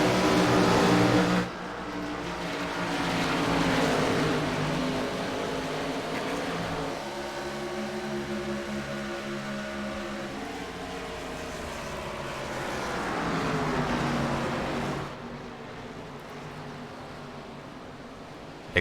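Stock race cars from a racing video game circle the Richmond oval in a green-flag run, engines droning loudly and continuously with rising and falling pitch as the pack passes.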